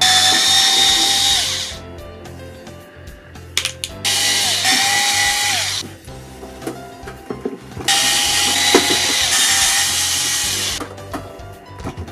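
A power driver backs screws out of a cheap stereo's casing in three long, loud whirring runs separated by clicks and handling noise, close and without talk.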